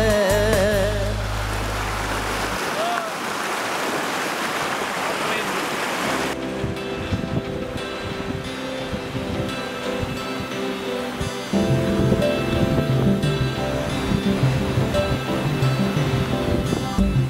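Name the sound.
river flowing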